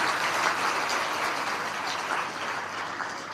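An audience applauds to welcome the swami at a Kannada religious gathering, with steady, dense clapping held at an even level throughout.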